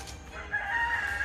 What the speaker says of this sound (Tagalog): Ingay na naman ang manok.